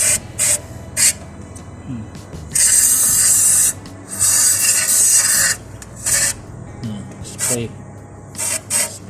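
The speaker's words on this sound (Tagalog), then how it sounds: "Spray to the maximum." Cleaner is sprayed onto an engine part during a repair for engine hesitation. Several long hissing bursts of one to two seconds alternate with shorter sprays and clicks, close and loud, while someone talks quietly between them.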